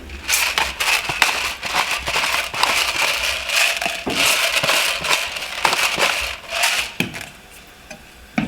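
Black pepper is ground over a pot of salmon chowder. Close, gritty crackles and crunching bursts repeat in quick, uneven succession for several seconds.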